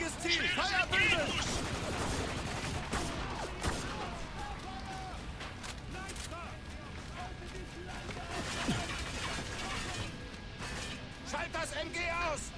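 Machine gun and rifle fire in Spec Ops: The Line combat, dense rattling bursts and cracks spread across the whole stretch, mixed with shouted soldier voices and explosion-like crashes.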